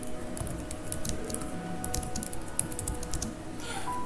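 A SQL query being typed on a computer keyboard in SQL Server Management Studio: a steady run of light, quick key clicks, close and fairly quiet, pausing briefly before a final keystroke.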